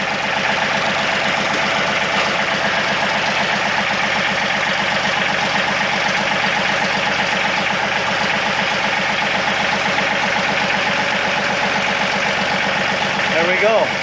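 A 2017 John Deere 2032R compact tractor idles with its PTO engaged, a steady mid-low engine drone that holds even and unbroken the whole time, with a person talking over it now and then.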